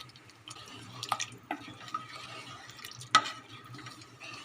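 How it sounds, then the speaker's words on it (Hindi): Boiled chickpeas with their water are added to chicken cooking in a pot, giving soft sizzling, stirring and a few sharp clinks of utensil on metal. "ये जो बॉयल चने आपको दिखाए थे पानी के साथ इसमें शामिल कर लेंगे"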